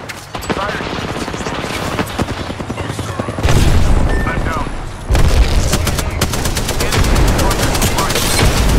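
Rapid bursts of automatic gunfire in Apex Legends ring out loud and close, with clattering volleys and heavier booming shots stacking up, broken by brief lulls before firing resumes, under occasional speech.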